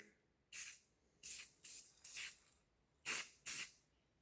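Six short bursts of spray paint hiss from an aerosol can nozzle coating a diesel injector, each about a quarter second long with brief pauses between, close and fairly loud.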